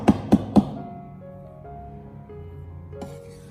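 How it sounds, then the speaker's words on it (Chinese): A kitchen knife strikes a cutting board while mincing ginger, with three sharp chops close together and then quieter handling under a faint background. "再准备小块的生姜，我们同样的给它改刀切成姜末。"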